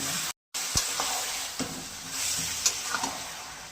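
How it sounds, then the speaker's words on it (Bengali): Marinated goat meat coated in spices sizzles in a pan, a steady crackling hiss with a brief dropout near the start and a few louder stirring scrapes and clatters, close and without voices. "এই যে মাংসটা মাখিয়ে রেখেছিলাম মশলাপাতি সব কিছু এবার দিয়ে"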